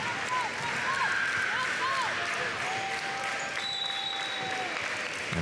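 At match point of a high school regional semifinal volleyball game, the crowd stands and applauds in a steady roar. Squeaking shoes and whistle-like tones sound through it, and an announcer talks over the noise.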